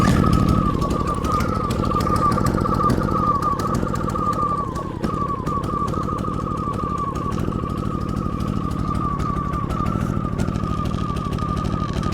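A DINKING 3000-watt dual fuel inverter generator runs on propane after a rough start, its engine humming steadily nearby with a slightly uneven, wavering tone over about twelve seconds.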